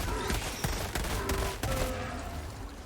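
MP-98 Knight submachine gun in Helldivers 2 firing rapid bursts, sharp clustered shots cracking in quick succession against a busy background of game effects, with no talk over them.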